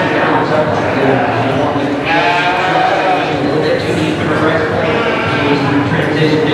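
Sheep bleat loudly and repeatedly at a livestock show, their calls overlapping steadily across the whole stretch, with a judge's voice discussing the animals underneath.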